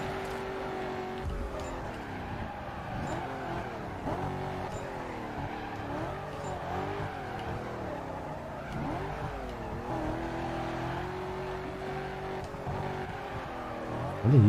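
A car in a racing game drifts with a continuous engine drone and rising and falling revs, the tires squealing through long slides, steady and close throughout.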